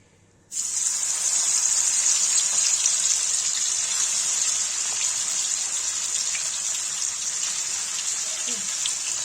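Water pours in a steady, continuous gush after a brief quiet start, a bright hissing stream filling a cooking pot close by.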